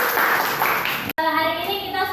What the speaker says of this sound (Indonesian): tepuk tangan untuk Evan.